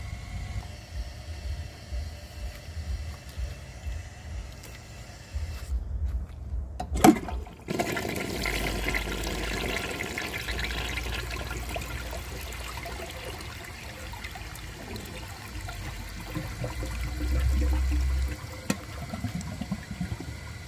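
A 1959 Standard Compact toilet is flushed during a flush test: a click of the handle sets off a loud close rush and swirl of water, which eases into a long trickle and refill with gurgling.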